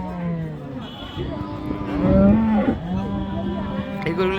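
Friesian cows at a rural cattle market in Dinajpur moo repeatedly, several loud, drawn-out calls close by over a busy background murmur of market talk.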